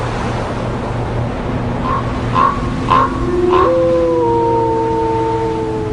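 A lone wolf lets out several short rising calls, then a long, drawn-out howl that slowly falls in pitch. The howling carries over a steady roar of wind or surf, with no talk.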